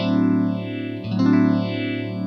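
Guitar run through a phaser set to negative feedback, a warm, vocal-like sweep rising and falling slowly twice over a sustained chord, close and loud with no talk.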